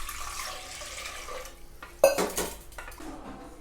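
Water poured into a sour curd and flour mixture in a large vessel, starting with a sudden clatter and splash, then a brief rush of liquid that fades into quiet kitchen sounds.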